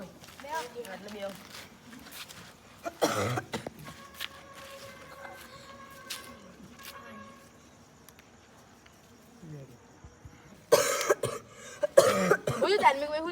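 A man coughs in short harsh bursts, first around the middle and again near the end in a cluster of several coughs, close and fairly loud, with quiet outdoor ambience and some talk between.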